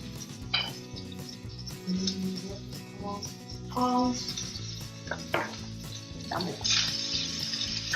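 Meatballs frying in a pan alongside a red onion mixture, a soft steady sizzle running under clattering pans and utensils, with scattered knocks and scrapes throughout.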